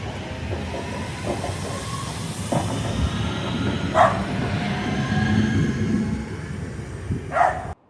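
A Northern train service pulling into Sandbach station, with a steady rumbling hiss of the rolling train, faint squeals and a couple of brief higher clanks, heard close from aboard.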